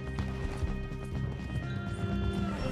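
Rapid clip-clop of a horse's hooves in the video game Red Dead Redemption 2 pounds along at a steady galloping rhythm over a low hum, fairly close and moderately loud.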